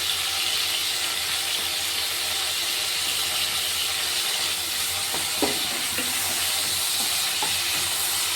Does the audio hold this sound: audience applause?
no